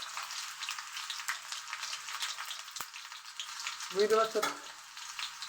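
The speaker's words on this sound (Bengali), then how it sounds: "রসুনটাকে লাল করে ভেজে নেবো আমরা, একদম লাল করে ভেজে নেব।" Garlic fries in hot oil, a continuous bright crackling sizzle heard close up, with one sharp tap near the middle and a brief spoken question near the end over the frying.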